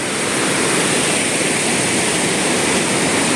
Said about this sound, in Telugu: ఈ కొండల్లో నుంచి వచ్చేటువంటి జలపాత ప్రవాహాలు విపరీతంగా పెరిగిపోయాయి చూడండి ఎంత శబ్దం చేసుకుంటూ